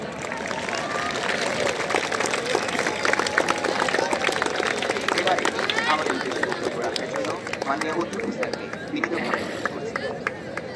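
Crowd at a school's end-of-year assembly breaking into loud, sustained applause, dense clapping lasting throughout with some chatter mixed in.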